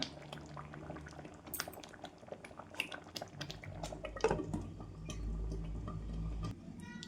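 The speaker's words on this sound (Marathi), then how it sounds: "बघा भगर आपला शिजत आलेला आहे" Barnyard millet (bhagar) simmering in a covered pot, with quiet bubbling and occasional drips and small clinks, ending in a steady low boil close by.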